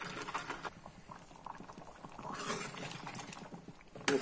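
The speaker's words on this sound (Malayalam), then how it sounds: "ഇനി ഇതൊന്ന് തിളക്കട്ടെ." Mango sambar bubbles in a pot with quiet, irregular pops and blips, a soft close simmer running throughout.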